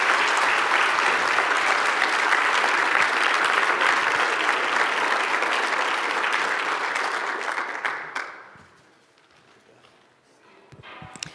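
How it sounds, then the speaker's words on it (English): An audience at a Wayne County Economic Development Council event applauds after a Cleveland Fed president's Q&A, a dense, loud wash of clapping lasting about eight seconds before thinning out to scattered claps. "Let's give Loretta a great Wayne County round of applause."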